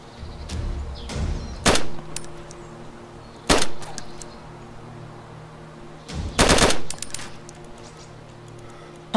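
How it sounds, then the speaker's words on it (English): Gunfire in the video game DayZ: several loud, sharp shots in bursts, with one or two isolated cracks and a final double shot, separated by quieter stretches of low game ambience. "Shots on me."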